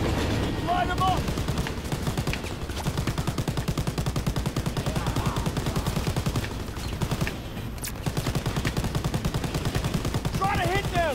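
Rapid automatic gunfire from the Call of Duty: WWII campaign rattles in dense, continuous bursts with short pauses, loud and up front, while voices shout over the shooting.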